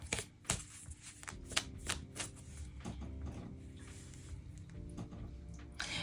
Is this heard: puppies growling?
no